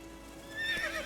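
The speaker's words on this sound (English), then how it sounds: "Come on, Roach. Giddy up" A horse neighs in The Witcher 3 game, a short whinny rising over a low hum with faint hoof sounds beneath, close and brief, with no talk.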